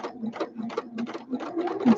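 A sewing machine runs a straight stitch, a close, rhythmic rapid chatter of needle strokes in quick bursts that pulse unevenly over a soft motor hum.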